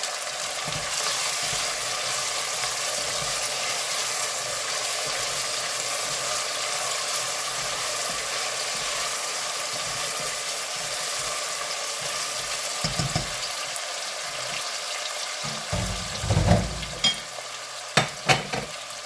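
Potato and chickpeas being stirred in a frying pan, a steady sizzle running throughout with scraping utensil knocks picking up near the end.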